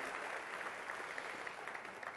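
A church congregation at a Sunday service applauds together in a soft, continuous patter of many hands, faint and somewhat distant.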